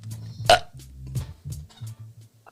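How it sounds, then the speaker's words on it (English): One loud, close, drawn-out belch rumbles through a podcast recording, followed by a few shorter, lower croaky burp fragments fading out. "And the burp of the year goes to..."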